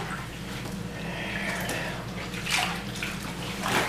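Water swishes and sloshes in a bathtub as a down quilt is kneaded under the surface to push the air out, a steady wash of splashing with a couple of louder surges.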